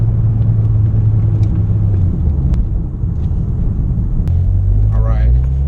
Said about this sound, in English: when you come out the corner, you get that nice turbo noise